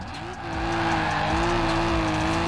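A car drifts in Forza Horizon 4, played on a Fanatec CSL v2.5 wheel setup, with a sustained high tire squeal over a loud, steady engine drone that holds for the whole stretch.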